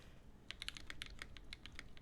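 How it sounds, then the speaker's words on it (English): A mechanical keyboard with Durock linear switches on a carbon fiber plate is typed on up close, a quick irregular run of crisp clacks of varying loudness, with no talking. "let me know if you guys can hear the typing or not"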